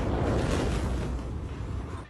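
Beirut ammonium nitrate explosion in news footage, heard as a dense, loud roaring rush with heavy low rumble that slowly fades, like the aftermath of a huge blast.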